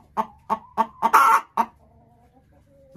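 Laying hen in a dacha coop clucks in a run of five or six sharp, rhythmic calls, one drawn-out squawk among them, close and loud, then quieter chatter.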